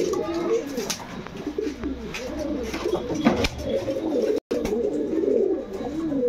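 Pigeons coo in repeated low, rolling calls close by, with a brief dropout partway through and an occasional flutter or clatter among them.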